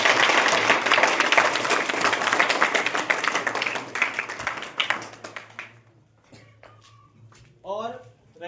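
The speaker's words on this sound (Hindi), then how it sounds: "तो एक बार जोरदार ताली आप लोग" Students at a farewell gathering clap loudly for several seconds, a dense crowd applause that thins to scattered claps and fades out, followed by someone speaking.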